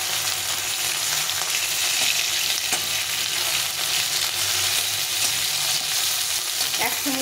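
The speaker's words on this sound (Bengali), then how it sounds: "এই মাছগুলোকে ভেজে নিলাম এইভাবে।" Hilsa fish heads fry in hot oil with a steady, dense sizzle throughout, and faint spatula scrapes and stirring clatter can be heard now and then close by.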